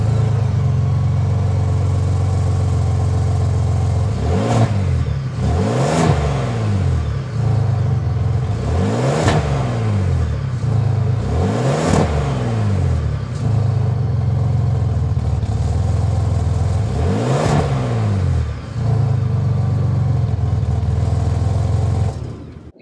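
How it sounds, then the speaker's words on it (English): A Ford Expedition Timberline's 3.5-liter twin-turbo EcoBoost V6 idles steadily with a deep exhaust note, repeatedly blipped into sharp revs that rise and fall back, close and loud. "Let's go start it up so you can hear that exhaust now."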